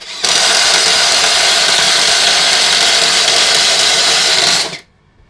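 An APR AP84+ impact wrench, set to speed 3, runs in one continuous high-pitched whirring burst of about four and a half seconds, loud and close, then winds down and stops; no speech.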